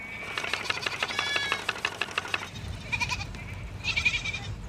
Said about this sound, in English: Oh, look at those sheep.